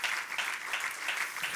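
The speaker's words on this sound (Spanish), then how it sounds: "Den un aplauso al Señor esta tarde" Brief applause from a church congregation during a sermon, steady dense clapping at moderate volume lasting under two seconds.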